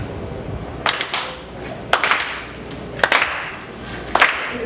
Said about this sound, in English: We're gonna get a soul clap real quick going.